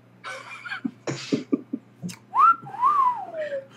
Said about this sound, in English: plays a recording of whistling